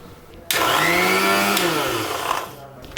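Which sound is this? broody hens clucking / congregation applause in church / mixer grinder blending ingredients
mixer grinder blending ingredients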